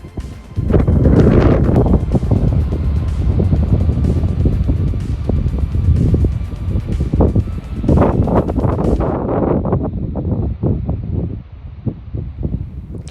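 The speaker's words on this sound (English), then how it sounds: "the wind really is just pushing us and stretching those anchor lines" Loud, sustained Hurricane Ian wind roaring and buffeting the microphone, with rustling gusts through trees that ease slightly toward the end.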